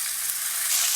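Green chilies for Gujarati marcha nu shaak sizzle in a pan over low heat while being turned, a steady close frying hiss that swells slightly toward the end, with no voices.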